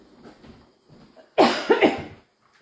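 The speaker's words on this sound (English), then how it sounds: "Had to cough there for a minute." A woman in a home kitchen gives one loud, close, raspy cough burst after faint murmuring, then silence.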